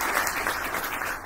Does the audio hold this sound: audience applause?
yes